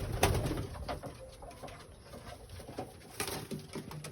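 Pigeons coo softly in a Sri Lankan bird enclosure, with low murmuring calls and light scuffling and flutters scattered through a quiet, close background.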